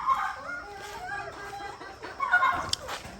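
Chickens cluck on a small home farm in Ghana in the early morning, with a busy mix of short calls rising and falling over steady outdoor background, a louder burst near the end.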